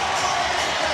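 An NBA arena crowd roars after a big shot in a 1999 Indiana Pacers versus Toronto Raptors game, a dense, steady wall of cheering for a moment with broadcast commentary underneath.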